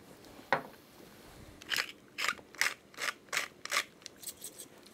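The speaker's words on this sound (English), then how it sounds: "Yeah, needs some salt and pepper. So we'll add some now." A pepper and salt grinder is twisted over sausage filling, giving a close series of about eight quick, crunchy grinding bursts in a rough rhythm after one earlier isolated crunch.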